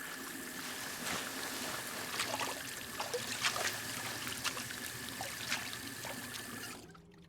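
Water from a sink faucet in The Suicide of Rachel Foster runs in a continuous light splashing trickle, then cuts off abruptly near the end.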